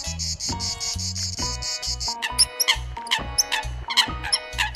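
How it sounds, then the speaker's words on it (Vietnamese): A cicada or similar insect buzzes and chirps in a steady run of rapid pulses, close and fairly loud, with no voices. "con ve sầu,"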